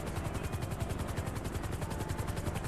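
A helicopter hovers overhead in GTA 5, its rotor beating in a fast, steady, even thump with a constant engine whine throughout.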